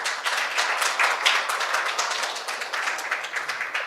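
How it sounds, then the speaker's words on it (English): Steady round of applause from a conference audience at a global summit session in Daegu, dense overlapping claps sustained at an even level throughout. "Let's give a round of applause, colleagues."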